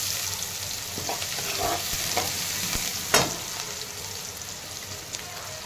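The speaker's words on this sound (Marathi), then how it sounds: "तेलामध्ये बटाटा टाकलेला आहे" Potatoes fry in oil with mustard seeds, cumin, onion and turmeric, a soft continuous sizzle broken by scraping stirs and one sharp clatter, close and fairly quiet with no voices.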